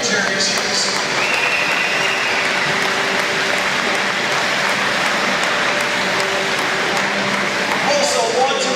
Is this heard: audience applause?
yes